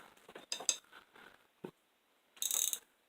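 A gear wrench with a ratcheting end, from a mechanic's toolbox, gives a few quiet metallic clicks and rattles, then a brighter burst of ratcheting near the end, heard close and alone.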